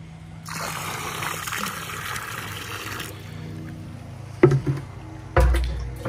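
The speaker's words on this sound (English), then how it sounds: "I'm now once again having to dose the pool with liquid chlorine." Liquid chlorine poured into a salt-water swimming pool, a steady splashing gush lasting a few seconds, followed by a couple of soft knocks and bumps nearby.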